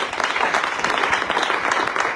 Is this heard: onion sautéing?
no